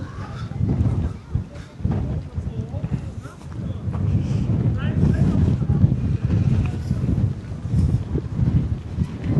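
Seaside wind in Çanakkale, Turkey, a strong gusting roar buffeting the microphone, loud and continuous with rumbling surges.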